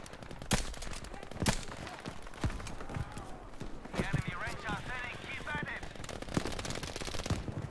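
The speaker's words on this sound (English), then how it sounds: "That MG42 kills me so quick." Rapid bursts of MG42 machine-gun fire ring out in the video game Battlefield V during a Breakthrough defense match, sharp repeated cracks and rattling volleys through the scene with busy battle noise and a voice talking over it.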